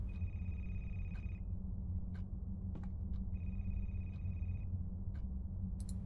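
A telephone ringing in a video game set in a library, two bursts of electronic trilling rings separated by a pause, over a constant low hum, with a few faint clicks and no talking.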